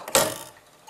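A single sharp mechanical clack from a master clock mechanism, whose dial moves once every 30 seconds, followed by a brief fading ring and quiet.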